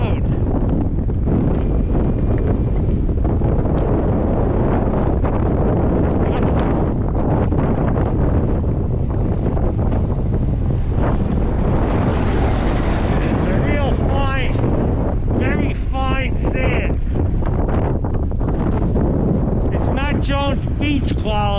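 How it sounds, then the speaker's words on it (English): Strong desert wind blowing fine yellow-brown sand across a road, a loud continuous buffeting roar against the microphone, with a person talking through parts of it. "I'm out here in the desert with the sand blowing across the road."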